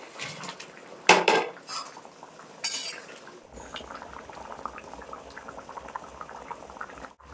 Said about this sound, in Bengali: তো দেখো মাছ দেওয়ার পর কিন্তু আমি খানিকক্ষণ ফুটিয়ে নিয়েছি।